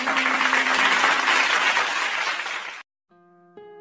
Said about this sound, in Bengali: আমরা সবাই তাকে হাততালি দিয়ে বরণ করে নেই।